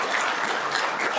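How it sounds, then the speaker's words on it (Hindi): An audience at a business guidance talk bursts into steady, dense clapping that stays even and fairly loud for the whole brief moment. "बहुत जोर से ताली बजाएं"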